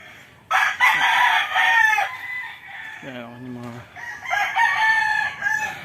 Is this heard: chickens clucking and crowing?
yes